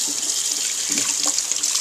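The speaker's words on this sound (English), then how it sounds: "just emptying the sink here" Tap water runs steadily into a sink and drains away while shock absorbers from a radio-controlled car are rinsed clean, a loud, close, continuous hiss and splash with no talking.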